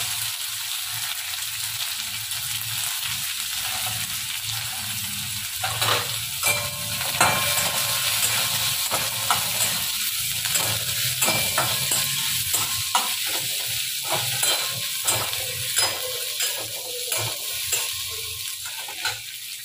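Chopped onions and garlic fry in oil in a pan, a constant loud sizzle with repeated scraping stirs of a spatula recurring in an uneven rhythm throughout, close and without talk.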